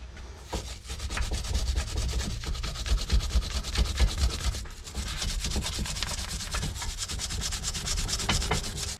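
A wire brush scrubs the inside of a Classic Mini Cooper brake caliper, giving steady, close scratchy rubbing strokes that run continuously with a brief pause midway, no voices.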